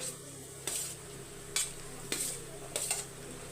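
Rice being added to a kadai and stirred with a utensil, giving several brief scraping strokes over a low, steady background hum, fairly close, with no talk.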